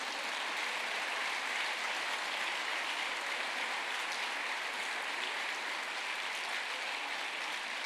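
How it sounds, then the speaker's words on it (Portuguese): A church congregation applauding the name of Jesus during a Portuguese-language worship service, a sustained, even wash of many hands clapping that fills the space without pause. "Aplauda o nome de Jesus"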